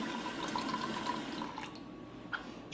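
Water poured into a measuring cup in a home kitchen, a soft steady liquid trickle running for about a second and a half before tapering off, with a brief splash near the end; no talking.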